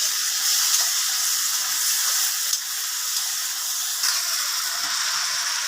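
Shrimp hitting a hot pan with frying bitter gourd and chili, giving a steady, loud broadband sizzle that holds evenly throughout with no talking.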